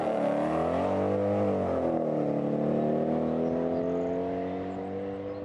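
A supercharged Mercedes-Benz E55 AMG engine rumbles and revs, its deep tone rising and falling as the supercharger whines above it. The sound stays loud throughout, then eases slightly near the end.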